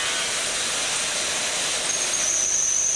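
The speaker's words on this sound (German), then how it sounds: "An der Unterkante erfolgt der Bohrprozess automatisch." An automatic drilling machine bores the lower edge of a Trabant 1.1 car door on a factory line, a steady loud hiss-like whine with a rising high squeal near the end, no speech.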